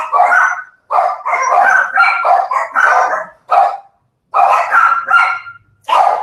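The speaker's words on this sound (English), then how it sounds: "And the dogs aren't freaking out." Dogs bark in repeated rapid bursts with short gaps between them, loud and close, with a brief pause midway before the barking starts again.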